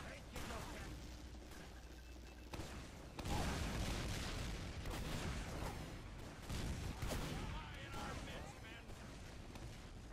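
Rockets are spammed in Team Fortress 2 during a competitive match on cp_metalworks, a dense stream of booming explosions and gunfire under a commentator's voice, loud and continuous with repeated bursts.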